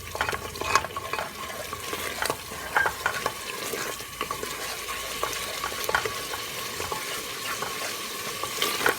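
Tomato paste frying with onions in a pot for a meat and potato curry, a steady close sizzle dotted with frequent clicks and stirring scrapes, continuous and without speech.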